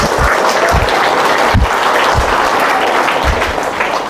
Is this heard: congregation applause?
yes